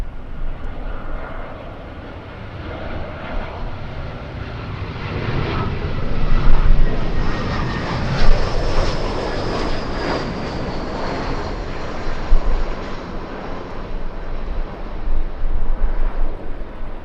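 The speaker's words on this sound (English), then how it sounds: "The United flight flying in from San Francisco" A United airliner arriving at Los Angeles LAX from San Francisco roars overhead, its engine noise swelling loud and near in the middle with a rising whine, then easing but still rumbling strongly.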